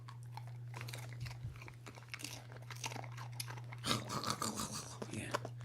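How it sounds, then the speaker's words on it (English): A snack is crunched and chewed up close over a computer keyboard. Irregular crisp bites and soft munching sit over a steady low hum, and the crunching grows busier and louder toward the end. "Don't crunch over the keyboard."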